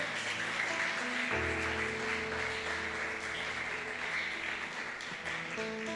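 A church congregation claps together in a sustained, steady round of applause, moderately loud and continuous, with a faint held musical tone underneath.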